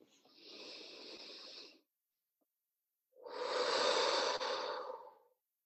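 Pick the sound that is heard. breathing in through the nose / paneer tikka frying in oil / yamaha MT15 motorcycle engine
breathing in through the nose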